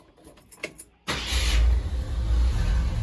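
A 1963 Ford Fairlane with new plugs, plug wires, distributor cap and rotor cranks briefly after a few faint clicks, then catches and settles into a loud, steady, rumbling idle up close.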